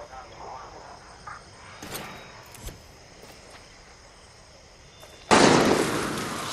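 Gunfire in the Far Cry 6 jungle: a few sharp distant shots crack over a steady chorus of insects, then a loud burst close by near the end.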